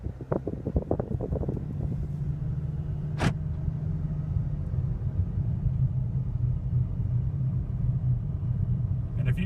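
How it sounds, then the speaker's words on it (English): Steady low rumble of tire and road noise fills the cabin of a 2014 Jeep Compass at speed, with a brief clunk near the start and a sharp tick midway, constant and moderately loud. "that is the sound of the tires on the road. There's definitely a lot of road noise with this car."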